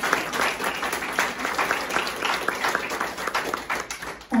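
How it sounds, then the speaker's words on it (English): Audience applause at a community quiltmaking talk: steady, dense clapping from a sizable crowd, fairly close and sustained for several seconds, with faint voices mixed in. "let's give a round of applause first"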